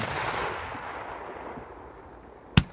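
Koneser TXB203 firework cake launcher outdoors in cold weather: a long fading hiss and crackle of a burst trailing off, then one sharp, loud report near the end.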